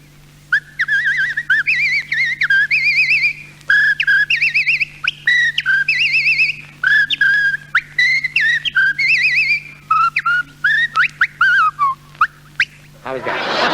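Someone whistles a lively tune with quick, warbling notes, close and clear, ending in a short burst of noise.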